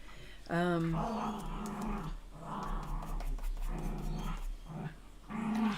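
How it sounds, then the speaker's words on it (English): Dogs growling and grumbling playfully, close by, in uneven bursts with panting between. "If you hear that funny noise, that is my dogs."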